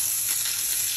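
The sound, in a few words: chicken meat searing in a pan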